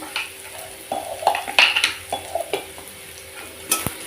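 Black cumin seeds fry in hot oil for a tempering, giving a crackling sizzle up close, with frequent stirring scrapes and clinks of a utensil against the pan.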